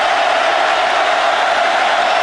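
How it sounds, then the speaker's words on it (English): A football stadium crowd at a 2010 Auburn versus South Carolina game roars steadily on third down, a dense, unbroken wall of cheering noise. "Crowd getting stirred up."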